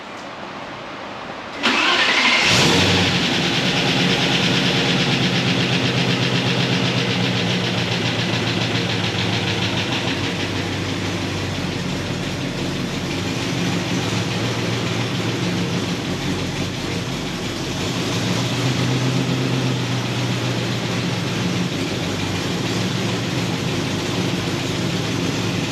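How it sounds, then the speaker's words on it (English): A Range Rover Classic engine cranks and catches after an oil change, then settles into a steady, loud idle that runs on unchanged with no talking. "I'm gonna start the engine and run it for about 15 seconds or so."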